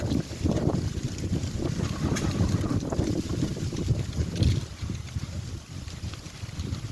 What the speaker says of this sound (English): I know that wind is blowing and it's going to make it hard to hear me